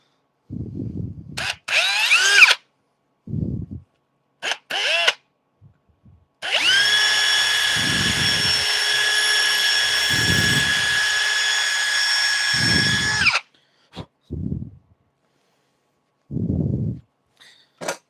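Power drill boring into a wood blank on a woodturning project, a steady loud whine running about seven seconds alone, with short bursts of drilling and knocks before and after.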